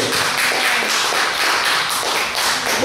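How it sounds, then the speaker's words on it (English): A church congregation claps together, a dense, sustained wash of applause from many hands that stays loud and even throughout with no voices on top. "give yourself a round of applause"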